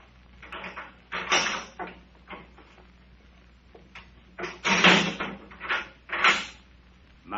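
A door opens in a radio drama with a series of creaks, knocks and scrapes in separate bursts, fairly close and loud against a quiet background.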